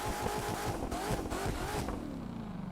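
Corvette C7 ZR1 convertible engine in the video game The Crew 2, a steady loud revving roar with rising and falling pitch, close and continuous, with faint tire noise and no talking.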